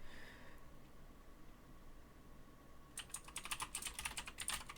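Rapid typing on a computer keyboard at a terminal: a quiet pause, then a quick, uneven burst of faint key clicks.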